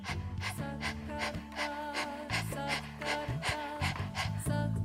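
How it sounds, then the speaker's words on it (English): Breath of fire in Kundalini yoga, with rapid, even panting through an open mouth and the tongue out, a fast steady rhythm of short sharp breaths close to the mic over soft background music. "begin breath of fire. Pumping the navel, equal inhale, equal exhale, breathing through the open mouth with the tongue sticking out"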